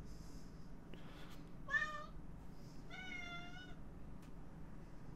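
A female house cat meows twice indoors, two clear drawn-out cries about a second apart over a low steady room hum, with no talking.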